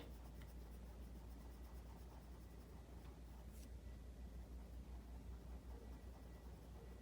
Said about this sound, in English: barely skimming that crayon over the paper.